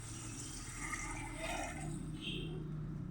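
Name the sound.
water being added to chicken pulao in a pot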